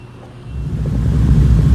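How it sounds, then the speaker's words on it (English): A 1968 Ford Mustang's engine is revved with the accelerator held down because it will not idle on its own, a deep rumble that swells steadily louder and closer over a couple of seconds. "unfortunately I still need to keep my foot on the accelerator. It's still not idling by itself"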